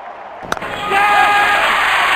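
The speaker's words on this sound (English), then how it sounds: "Crowd going mad here." A cricket video game crowd roars into a loud, sustained cheer after a sharp hit sound, the noise swelling and holding steady for about two seconds.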